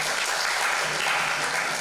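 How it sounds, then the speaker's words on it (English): Audience applause at a talk or lecture event, a steady dense wash of many hands clapping continuously at moderate level, with no speech over it. "Let's give big round of applause to the performance."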